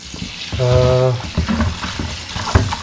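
A pot of water bubbles and hisses at a steady boil while pig brains cook in it, with a brief tonal clink early on and some movement noise around it.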